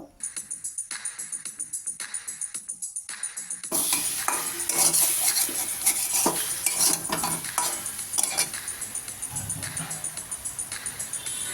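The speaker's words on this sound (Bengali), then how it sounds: "মিনিট দুই তিনকের মতো হাই ফ্লেমে নেড়ে চেড়ে নেব" Raw mango chutney is stirred in a pan over a high flame. A spoon scrapes the metal in a steady, close, rhythmic pattern, then the sound shifts to louder stirring over a bright sizzle.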